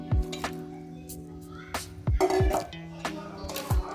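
A utensil mixes a baked sushi filling in a bowl, producing scattered clinks and soft squishing scrapes against the bowl, a few distinct knocks spaced through, with a faint background tone.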